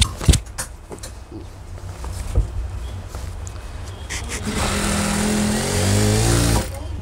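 A sewing machine stitches elastic onto the waistband of school pants, with some handling clatter first and then a steady motor whir running for about two seconds before it stops.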